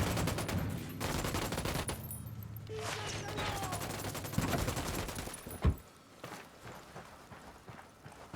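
Gunfire in the Ghost Recon Wildlands video game, dense rattling bursts of automatic fire and shots overlapping in a chaotic fusillade, loud and close, easing into sparser distant pops with a sharp crack partway through.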